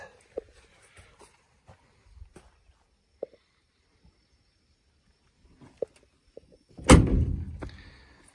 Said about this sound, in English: still that distinct clunk of a checker.